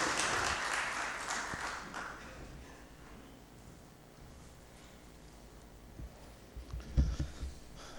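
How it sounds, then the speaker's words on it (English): Applause from a conference audience in Lahore, a broad wash of clapping at moderate distance that fades over a few seconds, then a few isolated thumps near the end. "A big round of applause, Mr."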